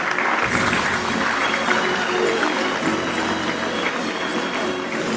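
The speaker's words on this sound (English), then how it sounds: "Big round of applause, please." An audience at a print industry summit gives a round of applause for honorees on stage. It is a thick, continuous wash of many clapping hands, fairly loud and steady for the whole stretch, with a faint crowd murmur.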